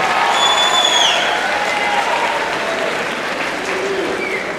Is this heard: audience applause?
yes